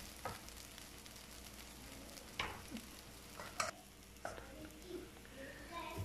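Rice frying in a pan for Hyderabadi bagara khana, stirred with occasional scrapes and light clinks over a soft, continuous sizzle, quiet and close.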